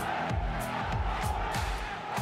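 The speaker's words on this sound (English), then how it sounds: "the crowd are cheering one more game" An esports arena crowd at EWC cheers for Falcons, a dense roar of many voices with rhythmic chanting bursts and claps, heard continuously and somewhat distant.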